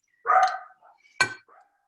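A small dog named Cookie barks twice at a delivery person at the door, two sharp, close barks separated by a short pause, with a faint whimper after each.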